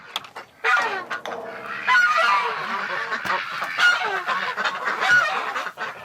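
Many geese honk together in an enclosed space, a dense, overlapping chorus of loud calls that continues without pause.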